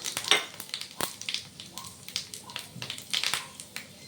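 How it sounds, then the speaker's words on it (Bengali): Dried chillies and panch phoron spices crackle in hot oil, a busy pattern of small pops and spits with sharp crisp bursts, close and fairly quiet with no talk. "তেল দিলাম শুকনো লঙ্কা দিলাম এবারে পাঁচ ফোড়ন দেব দিয়ে দিলাম পাঁচ ফোড়ন"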